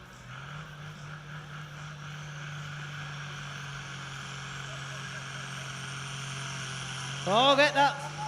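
Pulling tractor engine held at its RPM limit under load during a tractor pulling club event, a steady droning whine heard from a distance with a brief louder surge near the end.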